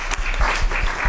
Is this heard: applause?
yes